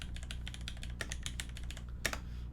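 Rapid typing on a Noxary mechanical keyboard with a copper plate, steady clacking keystrokes close up, with a couple of louder, sharper hits like a hammered spacebar, over a low steady hum.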